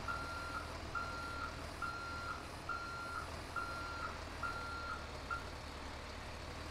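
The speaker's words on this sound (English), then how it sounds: "So let's back this thing on up and we'll put it in the backyard." A heavy wrecker truck in GTA 5 reverses, its backup alarm giving a steady run of evenly spaced beeps over a low engine rumble, fairly faint and with no talk.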